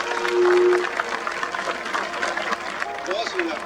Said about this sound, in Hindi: ताली भी बजा दो अपने लिए एक बार, बहुत जोर से अपने लिए